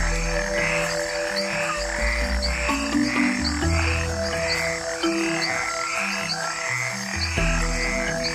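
Cane toads croak in a dense, continuous chorus, many calls overlapping in pulsing trills close by with no voices.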